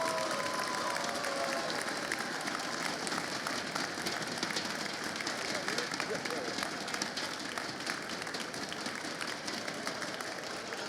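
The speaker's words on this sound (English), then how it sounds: "Please, one big round of applause for Team Nitro!" Crowd at a Shadowgun esports event applauds the second-place team, a faint, steady wash of many hands clapping that continues evenly from start to finish.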